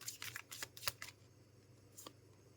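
Tarot cards are shuffled and drawn for a reading: a few brisk riffling flutters and sharp card snaps come close up, then a single soft slide after a short pause.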